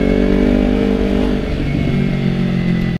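Kawasaki Ninja motorcycle engine running steadily during a ride, a loud continuous low drone with a rough, rumbling texture that holds at a constant pitch for about three seconds and cuts off abruptly at the end.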